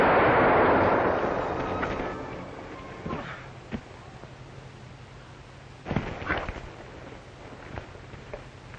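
Gunshots from a 1945 Northwest Trail mountie film: a couple of sharp cracks about three seconds in, then a louder pair of shots near six seconds, echoing over an outdoor rumble, with a further faint report afterward.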